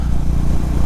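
Motorcycle engine holding a steady, smooth throttle while riding at constant speed on a high-altitude adventure route from Tso Moriri, a continuous low rumble close by with no talk.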